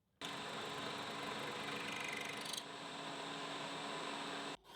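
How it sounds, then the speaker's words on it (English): A boring head cuts a chamfer on the underside of a machined metal knob, a steady close mechanical whir lasting about four seconds that starts and stops abruptly, with no voices. "I still need the boring head to cut a chamfer on the underside"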